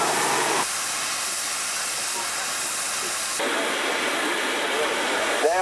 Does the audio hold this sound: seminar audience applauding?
no